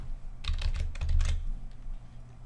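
Quick bursts of key clicks on a computer keyboard while entering details for a new user, a short flurry of taps up close in a quiet room.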